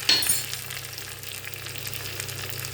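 Curry leaves drop into oil with sliced onions, a brief louder spit at the start settling into a low, even sizzle, close and moderately quiet with no speech.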